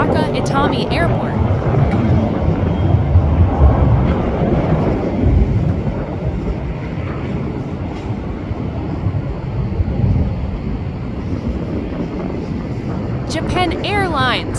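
A Japan Airlines Boeing 787 taxis and takes off at Osaka Itami Airport. Its engines make a loud, sustained roar with rumbling and wind buffeting, and a voice is heard briefly near the end.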